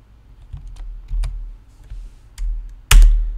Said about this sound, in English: we have to type this query.